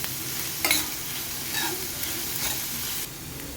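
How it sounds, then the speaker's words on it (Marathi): Chopped onion with curry leaves frying in oil for eggplant bharta, with a steady close sizzle and occasional stirring scrapes through the pan. "व्यवस्थित भाजून घ्यायचं हे तेलामध्ये"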